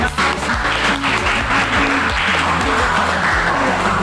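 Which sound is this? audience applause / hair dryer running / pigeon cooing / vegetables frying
audience applause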